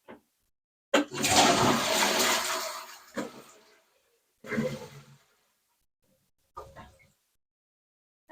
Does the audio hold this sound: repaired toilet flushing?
yes